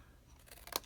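A quick snip of scissors trimming paper for a card box, a few faint cuts building to one sharp close clip, with no talking.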